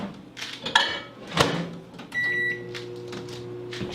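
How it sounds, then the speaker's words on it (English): A kitchen microwave oven melting margarine: a door clunk and a couple of knocks, then steady beeps and a sustained hum as it runs, with further light handling clatter nearby. "I'm gonna put this in the microwave and melt it right quick"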